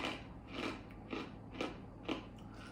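Crunching on garlic rye chips that resemble dried rye bread: four crisp, close bites spaced about half a second apart, each a short crackling burst over quiet background, with no talking.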